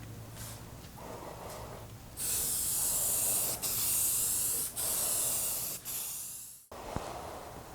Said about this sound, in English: The spray pattern on this paint is pretty horrible.